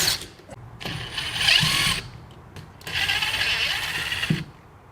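Screws are spun off electrical receptacles with a power driver in two whirring bursts of about a second each, close and moderately loud, with quiet clicks and handling noise between.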